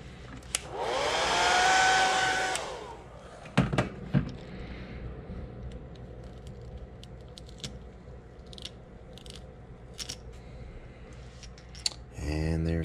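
A heat tool dries airbrushed paint on a yellow perch fishing lure, blowing a loud, close whoosh for about three seconds, followed by scattered clicks and handling noises.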